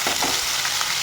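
Onion paste with dried red chillies, bay leaf, whole cumin and a little asafoetida fries in hot oil, a loud, dense, continuous close-up sizzle with no talk.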